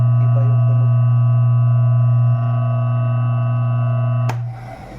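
A three-phase electric motor hums steadily under strain on a single-phase DPS, a loud low drone with stacked tonal overtones that dips slightly midway, followed by a sharp click as it winds down.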